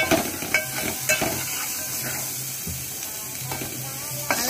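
Chicken pieces fry with turmeric and salt in a pan, making a continuous close sizzle with a few stirring knocks and a low hum in the background.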